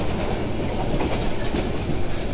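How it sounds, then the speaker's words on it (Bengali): The Tista Express passenger train rolls along the rails from Dhaka, filling the space with a loud, continuous rumble and a faint rhythmic clickety-clack of wheels, with no voices. "তিস্তা এক্সপ্রেস একের পর এক সুন্দর সুন্দর বাঁক নিয়ে সামনের দিকে এগিয়ে যাচ্ছে"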